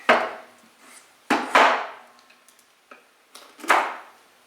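An X-Acto craft knife cuts through a small wood piece for a rabbet-corner recipe box, giving a few sharp, close snapping cuts with brief scraping tails and quiet gaps between them.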